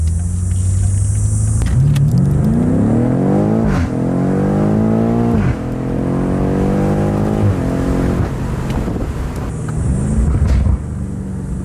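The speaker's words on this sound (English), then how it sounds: "Let's go full windows down. Let's see if that helps with some exhaust clip here." A 2019 BMW M5 Competition engine revs through several rising gear pulls, its exhaust booming loud and close, with rushing wind noise from open windows.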